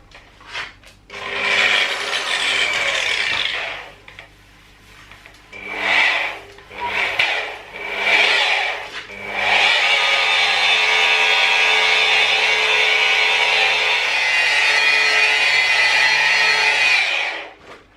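A polishing pad rubs hard and evenly across a scratched car windscreen with 3M Fast Cut compound, making a loud close scrubbing hiss in several strokes, then one long sustained pass.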